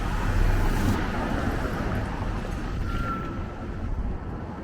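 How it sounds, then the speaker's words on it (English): Steady street traffic in Toronto's financial district near Yonge and Richmond Streets, a continuous broadband roar of passing cars with no voices, moderately loud and even throughout. "There's quite a bit of traffic today."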